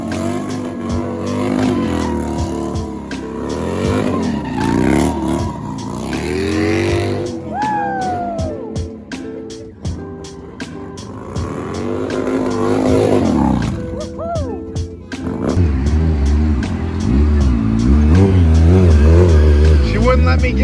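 A car engine revs hard in a parking lot, loud rising and falling roars with sharp spikes, while people talk and shout excitedly close by over the noise.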